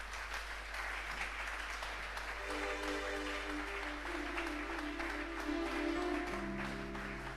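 A church congregation applauds in sustained, steady clapping that fills the room, with faint organ or keyboard tones rising underneath toward the end.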